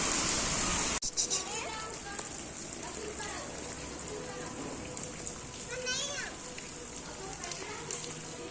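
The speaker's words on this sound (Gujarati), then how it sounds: "કેવો આવે છે વરસાદ" Unseasonal summer rain falls with strong wind on a village in Gir Somnath, Gujarat, as a steady close patter. A child and an adult talk over it throughout.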